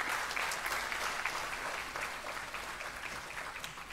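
Audience applause at a tech talk after a speaker finishes, steady dense clapping from a crowd filling the room, loud and continuous throughout without speech.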